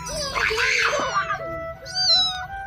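A cat meows several times close by, drawn-out cries with a higher, brighter mew near the end, no talking.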